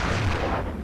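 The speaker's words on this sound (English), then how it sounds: "You vibrate with the explosions." Explosions in the submarine war film Das Boot produce a heavy, rumbling low boom that fills the brief moment and slowly fades.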